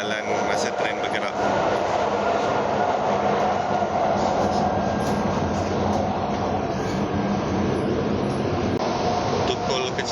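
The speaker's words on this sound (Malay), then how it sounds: "Pengalaman jalan masa tren bergerak." A train is moving, giving off a continuous loud rumble of rolling wheels and carriage noise at close range, with muffled voices faintly underneath.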